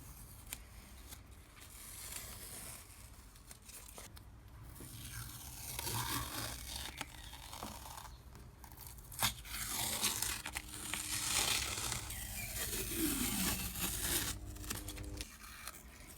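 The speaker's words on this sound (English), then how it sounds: "So we'll take the masking tape off," Masking tape peeled off a freshly painted vise part, giving a series of close tearing and crinkling rips with scraping handling noises between, moderately loud and free of talk.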